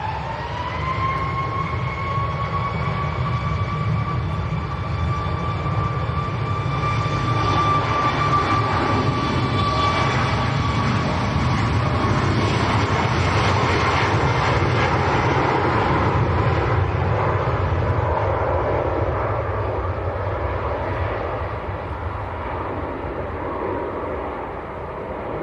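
A Ryanair airliner bound for Murcia passes near Manchester Airport, a loud sustained engine roar with a falling whine that builds, holds for a while and then slowly fades.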